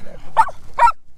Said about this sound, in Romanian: Aici ne așteaptă din nou câinii.